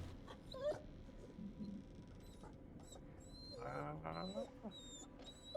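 A trapped puppy in Resident Evil 7 yips and whimpers in thin, wavering cries amid game background noise, with a louder, longer whine near the end.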